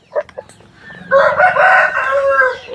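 A rooster, a fighting-breed cockerel raised on a farm near Machilipatnam, gives a loud, close crow lasting over a second, after a couple of short clucks.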